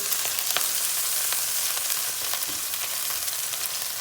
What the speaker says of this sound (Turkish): Tavukları iyice bir kızartacağız.